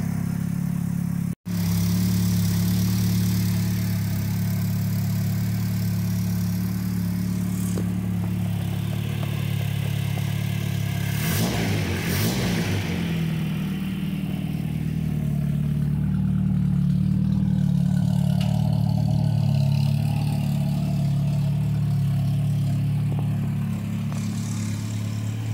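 A Bugeye car engine, freshly rebuilt with carburetors still untuned, runs through its first start-up, idling with a steady low rumble and rising into a couple of brief revs midway, fairly close and alone without talk.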